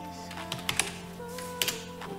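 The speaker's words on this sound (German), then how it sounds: "Ich habe eine blöde Tastatur." A few scattered keystrokes on a computer keyboard, soft irregular clicks heard close over a steady background hum and tonal whine, quiet and brief.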